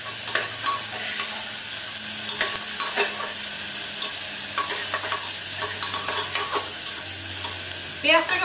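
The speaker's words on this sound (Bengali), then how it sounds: "পেঁয়াজটাকে ভালো করে ভাজতে হবে," Onions fry in a pan for a chicken dish, a loud constant sizzle under repeated close scrapes and clacks of a spoon stirring, the strokes coming irregularly every second or so, with no talk.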